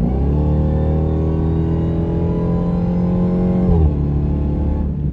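A 2023 Dodge Demon 170 accelerates hard, its loud, close engine roar holding a steady high pitch before a brief shift-like dip near the end, with no talk over it.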